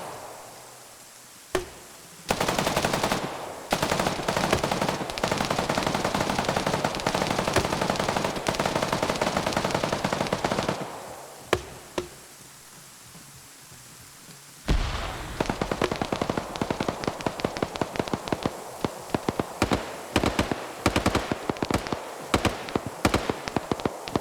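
Video game gunfire in a team battle, likely a PKM machine gun: long sustained bursts of rapid automatic fire, broken by short pauses, then a run of sharp individual shots and quick bursts, loud and close.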